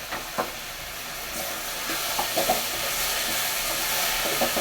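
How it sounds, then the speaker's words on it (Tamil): Tomatoes and onions sautéing in a pan for urad dal chutney give a steady close sizzle, with a few soft stirring scrapes and clinks scattered through. "நல்லா தக்காளி வெங்காயம் எல்லாமே நல்லா வதங்கட்டும்"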